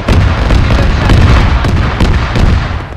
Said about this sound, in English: All I hear is explosions.